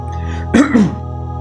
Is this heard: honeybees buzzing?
no